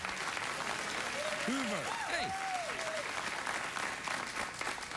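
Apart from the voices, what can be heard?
studio audience applause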